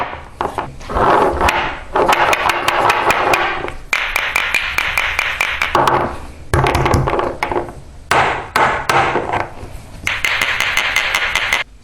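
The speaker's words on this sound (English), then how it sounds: "if I tap them together, tap them on the ground, so you can see sand fall" Wooden-framed hourglasses knocked together and tapped on the ground, giving a series of sharp clacks and taps in irregular bursts, close and loud, with brief gaps between clusters.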